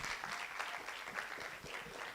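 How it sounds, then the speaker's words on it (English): A seated audience at a digital-age communication talk claps in a steady, even wash of applause that carries through without a break, fairly faint and without cheering. "One more time, a round of applause."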